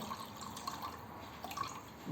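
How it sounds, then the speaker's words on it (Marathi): Water poured into a pot to make tea at home, a soft steady trickle and light dripping close by, fairly quiet throughout. "तर आता एवढं घालते पाणी"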